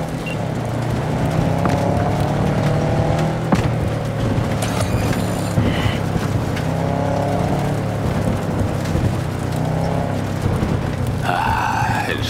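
A car engine in the video game Cyberpunk 2077 drones and revs continuously while driving, with occasional mechanical clunks and high whirring bursts over the steady roar.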